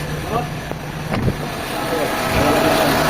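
An idling car engine heard from the engine bay gives a low, steady hum with a few small knocks, while someone talks over it close to the microphone.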